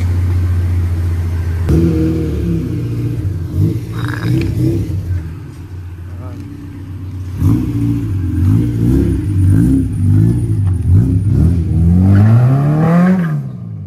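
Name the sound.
Honda CRX B18C engine revving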